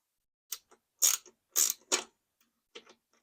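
A wrench turns a 19 mm guard bolt on a Hovsco folding e-bike's derailleur, giving four or five short metallic clicks and ratcheting bursts with quiet pauses between them. No one speaks.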